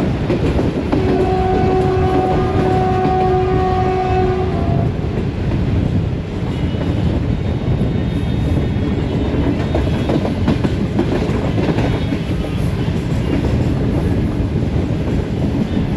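The Shalimar Express train passes through Gojra, a loud continuous roar of rolling wagons with clattering wheels, opened by a sustained blast of the horn in the first few seconds, close and overwhelming.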